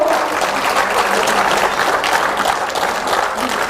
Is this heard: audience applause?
yes